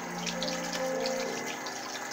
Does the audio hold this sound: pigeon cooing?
no